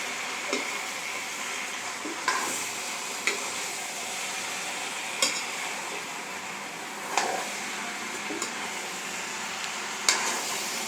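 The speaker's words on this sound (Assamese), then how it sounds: "বইল কঁঠালখিনিও মছলাখিনিৰ লগত ভালদৰে মিক্স হ'ব দিছোঁ আৰু অলপমান ফ্ৰাই হ'ব দিছোঁ।" Boiled jackfruit fries with masala in a pan under a steady soft sizzle, broken by regular spoon scrapes and clacks about every second or two, close and with no voices.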